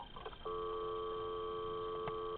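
A steady, continuous telephone dial tone drones alone for about two seconds after a brief burst of faint noise, clean and fairly quiet.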